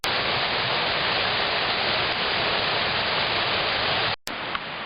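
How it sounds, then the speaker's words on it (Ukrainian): Constant roaring rush of the Shypit waterfall in a forest in winter, broadband and steady, cut briefly by a short gap near the end. "От ми підійшли до майже водоспаду, буквально тут він недалеко"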